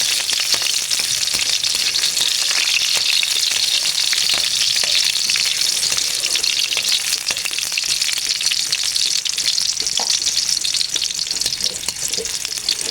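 Onions fry in hot oil for mussel tinola with a loud, continuous sizzle and occasional crackles, close up and unbroken throughout.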